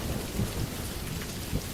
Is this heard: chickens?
no